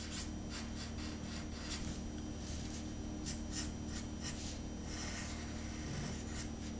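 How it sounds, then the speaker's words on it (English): Pencil scraping across paper while drawing a cartoon, a steady soft rubbing with repeated short strokes over a low background hum, close and fairly quiet, no voices. "So there's me just drawing without telling you."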